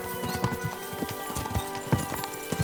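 Horses galloping in the video game Kingdom Come: Deliverance II, a quick, close run of drumming hoofbeats at an uneven rhythm over steady background game ambience.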